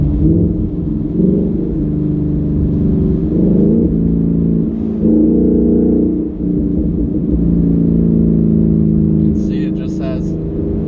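A 2019 Ford Mustang GT V8 with an AWE Touring cat-back exhaust revs up in repeated deep, loud pulls and settles back between them, a heavy low rumble heard from inside the car.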